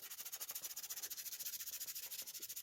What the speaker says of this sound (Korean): 근데 이걸 죽여버리면 안 되니까 사포를, 이것들은 400방으로 해서